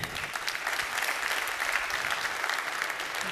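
Sustained applause from a large PyCon AU 2023 conference audience for a sponsor, many hands clapping in a steady, dense wash across a hall.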